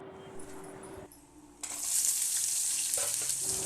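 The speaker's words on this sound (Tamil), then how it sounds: "இப்போ நல்லா வதக்குங்க. நல்லா எல்லாமே பொரியட்டும்." Steady hissing sizzle of dried turkey berries and vegetables frying in hot oil for vathal kuzhambu, growing louder partway through as more goes into the pan, with faint clinks.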